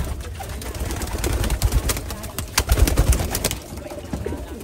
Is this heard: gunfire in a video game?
no